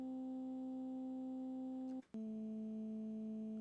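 A recorded voice note pitch-corrected in Melodyne into one steady tone and looped: a faint, pure, sustained hum with a brief glitch at the loop point before the note resumes.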